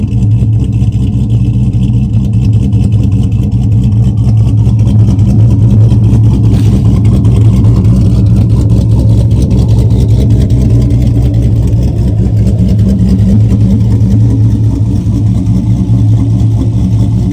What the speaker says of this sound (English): let you guys hear what the exhaust sounds like with the dumps